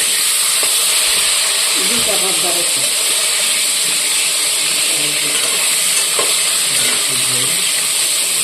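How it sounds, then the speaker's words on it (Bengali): Fish pieces fry in a pan, giving a loud, steady sizzle and hiss close by, with faint voices and occasional clatter in the background. "তো এইদিকে মাছগুলিও ভাজা হয়ে গেছে"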